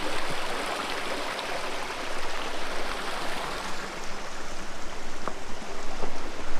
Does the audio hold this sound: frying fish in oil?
no